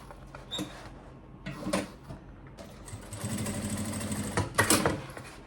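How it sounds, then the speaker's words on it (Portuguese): A sewing machine stitches an insulated lunch bag, short runs of fast mechanical whirring close by with handling clicks between them, ending in a longer steady run. "vou fazer uma costurinha aqui prendendo no lugar"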